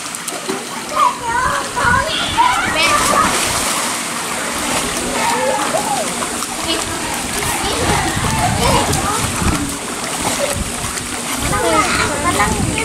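A dog named Charlie swims and splashes in water, with continuous sloshing and splattering close by, while voices, including a child's, chatter excitedly over the watery noise.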